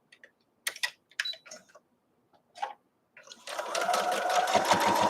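Fabric for a globe ornament is handled and positioned with a few soft clicks and rustles, then a sewing machine starts stitching in a fast, continuous, close-up whir.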